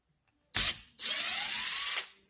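An electric screwdriver whirs as it backs the screws out of the fuel bowl on a Honda N600 carburetor: a short burst, then a steady whine of about a second with a rising tone. The sound is close and loud, with no talking.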